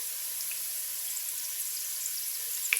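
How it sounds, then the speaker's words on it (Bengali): Ginger garlic paste fries in oil for an egg biryani, giving a steady, fairly quiet sizzle with a light tap of a utensil near the end. "আদা রসুন বাটাটা আমি তেলের সাথে ভালো করে ভেজে নিচ্ছি"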